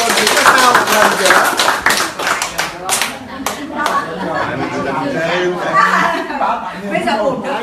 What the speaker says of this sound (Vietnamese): Rồi mọi người mừng cho cô một tràng pháo tay